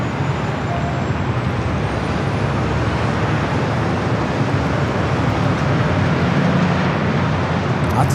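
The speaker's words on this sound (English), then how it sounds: "Below us here at the parking garage, this is a lot of traffic noise that you're hearing" Steady, loud roadway din from trucks and buses rolling below an airport parking garage at Los Angeles International Airport, a continuous broadband rumble with no breaks.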